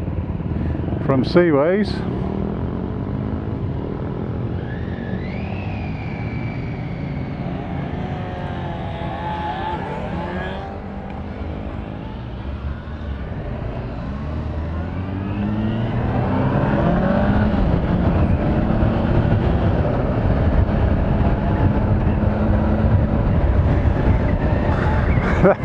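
A group of motorcycles riding off together from a coastal meetup, a steady roar of engines with rising and falling revs and wind rumble from an onboard rider, and someone speaks briefly near the start.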